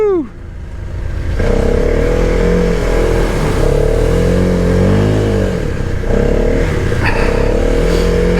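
A 2023 Arctic Cat Mudpro 600 ATV revs hard through mud, its engine rising and falling in loud, close surges with clattering, and a voice calls out briefly at the start.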